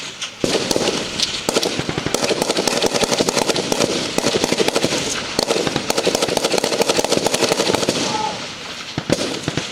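Dense volley of gunfire from a group of armed security personnel firing together in unison, a continuous loud crackle of overlapping shots with short pauses, close and sustained.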